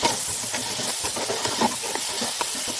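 Peas and chickpeas frying for matar chana pulao in a pan over full flame, a dense, steady sizzling hiss that runs throughout with small popping crackles, close and even in level.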